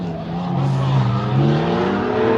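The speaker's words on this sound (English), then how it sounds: "coming up here is actually a couple of Ford Performance vehicles. There's a Ranger Raptor and a Bronco Raptor as well." Ford Ranger Raptor and Bronco Raptor performance trucks race past at the Mint 400 desert race, a loud, close engine roar with shifting pitch as they sweep by, no talk heard.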